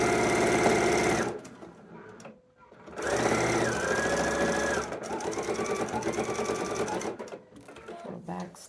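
A sewing machine stitches binding onto a quilted jacket in quick mechanical bursts, starting and stopping several times with short pauses, close and fairly loud, while a person talks over it.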